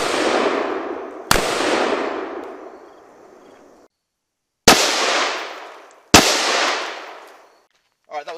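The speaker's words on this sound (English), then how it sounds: "that was two rounds at about 10 yards, pretty close. Kind of a controlled pair." M855 green tip rifle rounds fired at a Shot Stop Level III Special Threat armor plate from about 10 yards: several loud, sharp cracks, each trailing a long ringing decay, with the last two coming close together as a quick pair. No talk.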